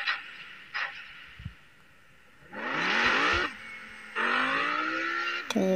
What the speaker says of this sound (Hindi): देखो कितनी तेज भाग रही है गाड़ी, ये ड्रिफ्ट देखो इसकी